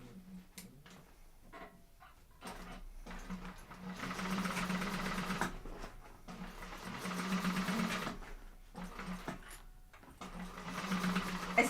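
A sewing machine runs a second line of stitching in bursts of a few seconds each, a close, fast buzzing whir separated by brief pauses, with no talk.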